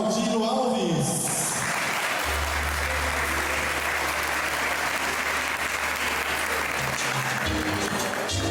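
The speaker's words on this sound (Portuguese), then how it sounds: "você dá uma salva de palmas" Audience applause greets the education, culture and sports secretary as she is introduced at a teachers' tribute evening, a dense sustained clapping that fills the room loudly, with a low hum underneath for much of it.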